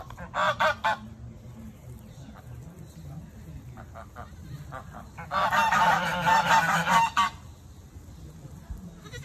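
Sebastopol geese honking in two loud bursts of repeated calls, a short one at the start and a longer, louder flurry later, with quiet background between them.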